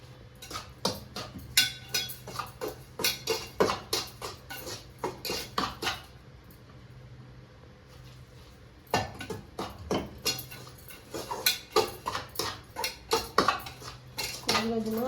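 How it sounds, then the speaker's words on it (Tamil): Repeated clinks and scrapes of a spoon stirring sugar syrup into black rice in a metal pot, steady and close, with a quieter pause in the middle before the stirring resumes. "ஊற்றி அப்படியே கிளறி விடுங்க"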